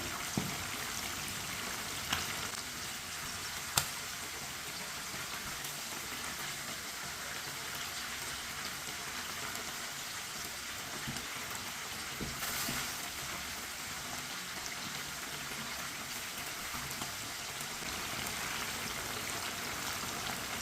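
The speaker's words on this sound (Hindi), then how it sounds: "चिकन को 3-4 मिनट के लिए फ्राई होने देते हैं।" Chicken pieces frying in a pan of hot oil for a Hyderabadi biryani, giving a steady, dense crackling hiss that runs evenly throughout, with a couple of brief sharper pops, no voices.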